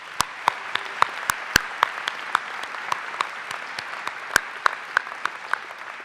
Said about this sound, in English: I think all of these people deserve one more round of applause.